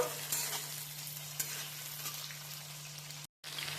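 Shrimp fry lightly in hot oil, giving a faint, steady sizzle over a low electrical hum, with a brief dropout near the end and no voices.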